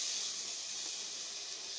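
Ridge gourd peel sautéing in a hot pan gives a steady, bright hiss that holds evenly throughout, fairly faint and with no voices over it.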